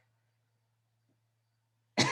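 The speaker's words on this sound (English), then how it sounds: "Still have this lingering cough." A single sudden cough from a person with a lingering cough breaks a near-silent room, loud and close, right at the end.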